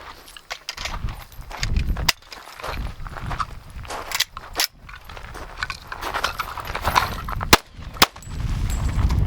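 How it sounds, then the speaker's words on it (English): Reising Model 60 rifle, an H&R World War II gun in .45 ACP, firing semi-wadcutter rounds outdoors, several sharp, loud shots at irregular intervals with handling noise between them. "This gun was really designed to shoot ball ammo, but it did pretty good with them semi-wad cutters."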